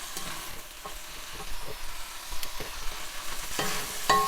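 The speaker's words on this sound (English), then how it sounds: "In the meantime, we'll just stir these around." Asparagus being stirred around a pan as it sautés in oil and butter, a soft steady sizzle broken by scraping stirs and a few sharper clinks, close and fairly quiet with no talking.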